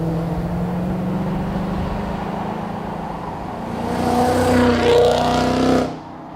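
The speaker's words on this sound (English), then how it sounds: "The Ford 5-litre Coyote engine was first introduced in 2011" A Ford Mustang GT with the 5-litre Coyote V8 rumbles steadily, then swells louder as it revs or passes close by before the sound drops away abruptly; no talking.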